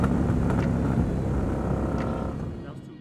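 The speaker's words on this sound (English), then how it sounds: "This gunner also has a full Two Brothers Racing exhaust system, giving this gunner a sweet note that's not overly loud" A Victory Gunner motorcycle fitted with a full Two Brothers Racing exhaust, a low rumbling engine note that holds steady and then gradually fades, with a voice talking over it.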